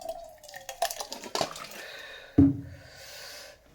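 Onion pulusu stew being ladled from a pot: wet slurping and dripping pours, soft squishy splashes and one louder thud of the ladle, all close and without talk.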